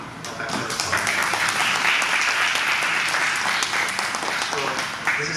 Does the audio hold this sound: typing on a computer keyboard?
no